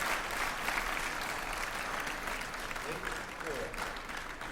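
Crowd applause after a point in a men's singles semifinal table tennis match at the 2011 US Table Tennis Championships, steady clapping from many hands filling the arena, with a commentator talking over it.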